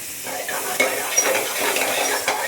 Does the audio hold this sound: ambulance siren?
no